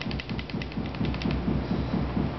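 A King Arms GBBR M4 gas blowback airsoft rifle firing full auto with a malfunction, giving a fast, even train of sharp mechanical clacks up close, steady throughout with no talk.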